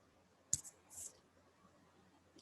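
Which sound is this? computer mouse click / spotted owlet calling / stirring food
computer mouse click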